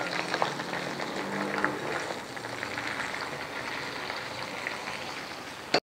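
Bhindi (okra) frying in a pan, a steady close hiss and crackle of hot oil with a few small clicks, continuous and even at moderate loudness, with no talking.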